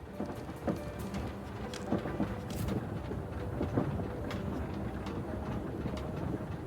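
Moving train in a video game, a steady rumbling run of rail noise with faint rhythmic clatter, continuous and moderately loud with no talk over it.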